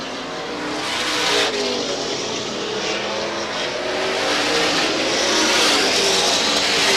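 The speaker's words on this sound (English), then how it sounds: "700 horsepower Supermodifieds, and Lowry is able to streak by exiting turn number 4." 700-horsepower Supermodified race cars roar past on a speedway, a loud, sustained engine drone that swells as they streak by coming off the final turn.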